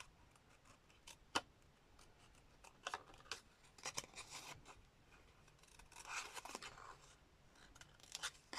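Scissors snipping paper for a collage, with scattered close crisp cuts and rustling paper, sometimes in short quick runs, quiet throughout.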